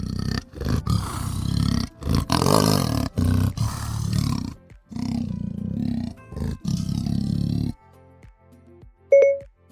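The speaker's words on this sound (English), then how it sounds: "An Amur leopard sounds like this." An Amur leopard gives a loud, rasping sawing roar in about a dozen rhythmic coughing bursts separated by short gaps, then falls silent before a brief electronic chime.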